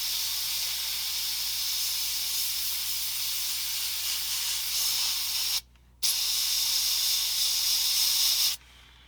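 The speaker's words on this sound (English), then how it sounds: "I'm just going to cut in some white here, okay? Just with the airbrush." Airbrush spraying white paint onto a 1/87 scale resin wrecker model, a steady close hiss that holds for several seconds, cuts out briefly, then resumes.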